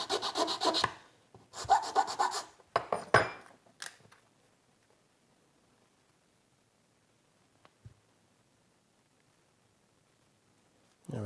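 A hand tool shapes an oak handle for a homemade sculpture tool in several short, scratchy rubbing and rasping bursts, close up, followed by near silence with a faint knock.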